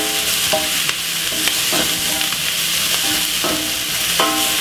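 Curry vegetables being stir-fried in a pan for Jamaican curry fried rice, a constant loud sizzle with repeated scraping strokes of a utensil against the pan at an irregular rhythm.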